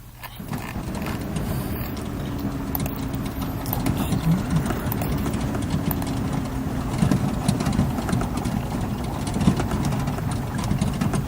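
Airship engines in Microsoft Flight Simulator 2020 drone continuously with a low, even mechanical hum, steady and fairly loud throughout with small surges, and no talking over it.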